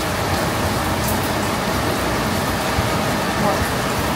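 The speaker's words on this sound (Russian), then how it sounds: "Чтобы вы не подумали, что обманываем, правда, дождь." Steady rain falls after a morning thunderstorm, a dense even hiss of drops on surfaces that stays loud and close throughout, with faint talk beneath it.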